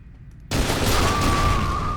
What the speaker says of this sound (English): the nice thing about this turret is it doesn't really stop